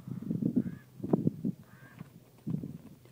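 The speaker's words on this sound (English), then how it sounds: "I hear a bird." Harsh cawing calls from a crow, repeated in bursts, fairly close, with some faint background noise between calls.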